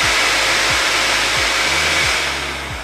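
A pet dryer blasts a steady, loud stream of air from its nozzle, a constant broadband whoosh over a low motor hum that stays even throughout and eases off slightly toward the end.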